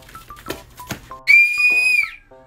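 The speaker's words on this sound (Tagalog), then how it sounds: "Kanina ka pa nagpipito." A toy whistle blown by a child gives a loud, sustained shrill tone lasting under a second, preceded by a few softer short toots and clicks, with no talk.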